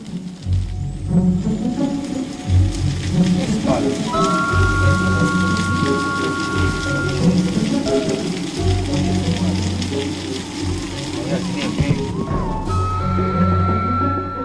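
Heavy rain pours down on a remote mountain trail with a constant dense roar, low rumbling throughout and a few faint tonal sounds, heard loud and close with no clear speech.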